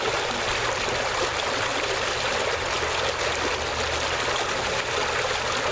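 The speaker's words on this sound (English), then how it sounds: "that's the bubbler." A water bubbler at the end of a dock in Northeast, Maryland churns steadily, a continuous rushing, gurgling wash of water heard close up with no pauses.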